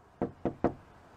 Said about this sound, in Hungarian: Kopogok.